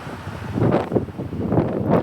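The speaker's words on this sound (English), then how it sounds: "That wind blowing." Cold wind rushes through Sheets Gulch slot canyon in Capitol Reef, loud gusting roar buffeting the microphone in waves, with no talking.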